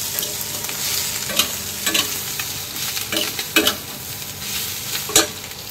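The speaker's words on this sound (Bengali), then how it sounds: "আমি এদিকে আলু পটলটা ভাজা করে দিচ্ছি" Potato and pointed gourd fry in a pan with a steady hiss of hot oil, broken by several sharp clicks and scrapes of stirring against the pan.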